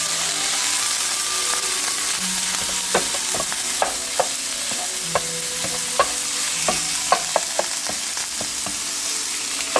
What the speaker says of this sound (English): Gotta love the sizzle, baby.